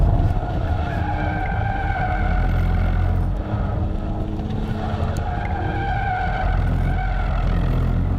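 Sustained tire squeal from a 2019 Porsche Panamera 4 in Sport Plus mode over a loud, roaring engine, continuous for several seconds as it corners hard, close and loud.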